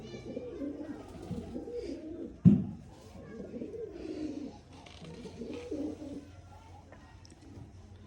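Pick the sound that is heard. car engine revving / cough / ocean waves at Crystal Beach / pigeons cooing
pigeons cooing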